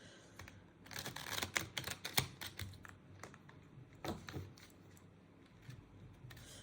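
Tarot cards are shuffled in rapid, irregular flurries of light papery clicks and riffles, close by, in bursts with short pauses between them, and no talking.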